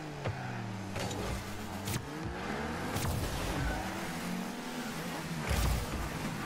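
A Nissan Skyline car engine in Rocket League, a steady revving drone with shifting pitch, tire squeal and sharp impact knocks from the match layered throughout at moderate, continuous loudness.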